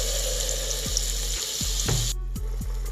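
Tablespoons of oil and butter simmering in a pan for a chicken fettuccine alfredo, a continuous close sizzle with a few soft clinks and knocks from the cook.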